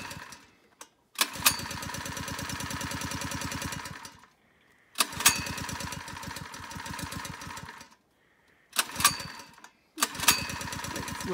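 A small Predator gas-powered water pump engine starts and runs in several bursts, chugging with a fast rattling putter between short silent gaps, loud and close with no talk.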